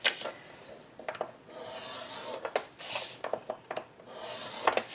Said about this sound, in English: at 3/4 of an inch, we're going to score each one of these.